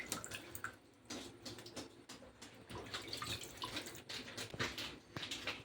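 Tap water runs and splashes over raw chicken being washed in a sink, a steady close stream broken by irregular splashes and drips as the pieces are handled.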